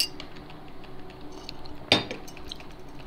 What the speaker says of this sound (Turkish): Bardağı kırdın anasını satayım ya.